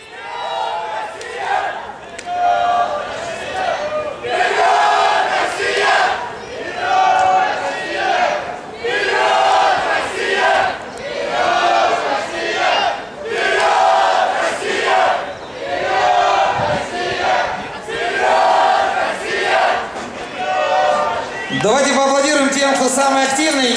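A large crowd at a beach volleyball Grand Slam in Moscow chants in loud rhythmic bursts, repeated call after call, with a sustained roar of many voices filling the space.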